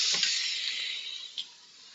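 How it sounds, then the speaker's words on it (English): Steady high hiss of beef shank sizzling in a hot pan, continuous and close, with a couple of faint clicks and no talking. "Nice sizzle."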